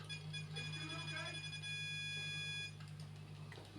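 A steady electronic beeping tone with bright harmonics sounds for a few seconds in GTA 5 over background noise, then stops.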